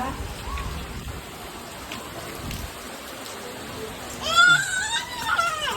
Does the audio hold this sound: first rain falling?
yes